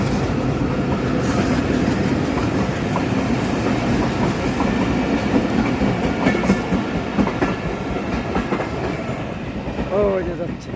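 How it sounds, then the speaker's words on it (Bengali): A train passes Dinda railway station in Faridpur, its wheels rumbling and clacking steadily over the rails close by, with a brief squeal of metal near the end and a voice talking over it. "এই যে দেখেন ট্রেনের শব্দ পাওয়া যাচ্ছে"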